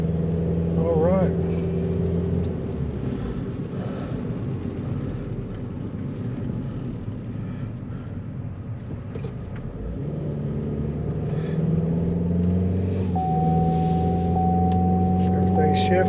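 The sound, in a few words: Chevy Spark car driving and accelerating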